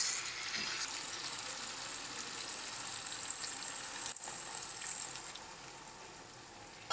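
Water poured over new potatoes and green peas frying in a pan for a winter aloo-matar dum sets off a steady, airy sizzle that hisses evenly, then eases slightly toward the end.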